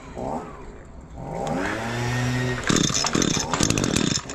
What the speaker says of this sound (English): this weed whacker hasn't run since last fall. Let's see if we can get it going.